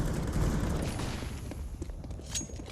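Gunfire in Counter-Strike, with a burst of rapid shots and mechanical clatter, loudest at the start and thinning into scattered sharper pops.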